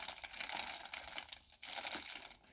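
Tape on a mailed package holding carbine handguards is cut and the wrapping opened, a steady crinkling and tearing of plastic and packing material, loud and close, with a brief pause midway before the rustling resumes.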